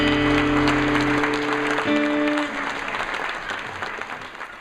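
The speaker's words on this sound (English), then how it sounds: "Oh, let me see the applause." Applause from an audience fills the opening seconds as a steady wash of clapping over a fading musical chord, then thins out and continues more softly to the end.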